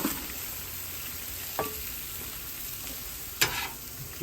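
Onions sizzle on a Blackstone griddle, a bright continuous hiss, with two distinct scraping turns from a spatula partway through.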